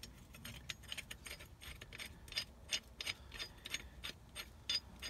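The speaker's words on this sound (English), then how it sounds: "I might be able to turn it with pipe wrench and get it back to where I can pump it up." A car jack handle on a trailer with a wooden deck is turned with a pipe wrench, giving quiet repeated metallic ratcheting clicks and clanks in an irregular rhythm, faint and close, with no voices.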